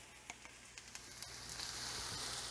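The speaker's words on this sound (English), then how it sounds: "Our skillet's pretty hot here, so we're going to put in our veggies next. Ooh, you can hear that sizzle." Vegetables sizzling in a hot skillet, a faint steady frying hiss with small crackles and pops throughout, building slightly toward the end.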